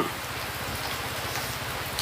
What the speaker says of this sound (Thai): ทุกคนช่วยด้วยฝนตก ติดอยู่ในเต็น